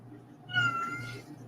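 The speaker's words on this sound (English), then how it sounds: "the cat's growling at the dog." A cat gives a low, tense growl rising into a drawn-out yowl directed at a dog, close and fairly loud, sustained for about a second over a faint background hum.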